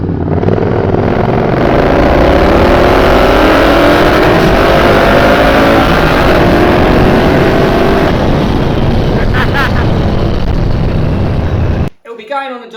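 A supercharged Triumph Bobber motorcycle accelerates hard on a street, its loud engine note climbing through rising revs for about eight seconds before easing off and cutting out near the end.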